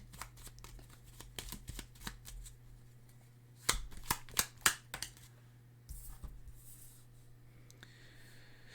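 A deck of cards is shuffled and drawn with quick papery riffles and flicks, arriving in bursts over a steady low hum. No one talks.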